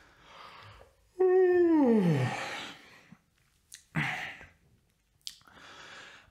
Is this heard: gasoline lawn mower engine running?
no